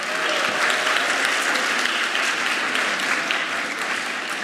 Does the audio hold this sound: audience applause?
yes